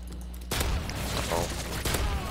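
Gunfire rattles through a Modern Warfare 3 survival match, a sudden burst of rapid shots after a quiet start, with a dense stream of firing and thuds and a voice partly under it.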